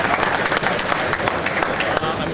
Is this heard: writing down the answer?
no